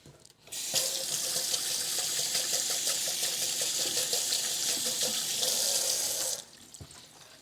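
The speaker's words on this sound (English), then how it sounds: "I need to wash my hands off for a second." Tap water runs steadily into a kitchen sink for several seconds while hands are washed, a close, even rushing hiss that starts abruptly and cuts off cleanly near the end, with no talking over it.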